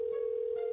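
A phone ringback tone hums steadily while a call waits to connect, a flat continuous electronic note with no voices over it.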